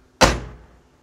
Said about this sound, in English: How do you get that nice thud? No clunking, no movement in the door.